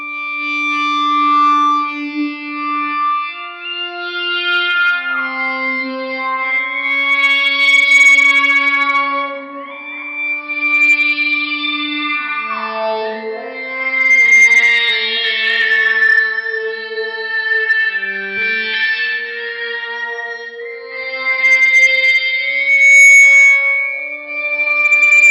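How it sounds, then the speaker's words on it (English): Synthy pad tones from an electric guitar with a Sustainiac pickup through a Line 6 Helix LT, long sustained chords swelling and shifting with echo, chorus and light distortion, loud and continuous with no talking. "this sort of sound would be something that I would use to create a more synthy kind of pad sound"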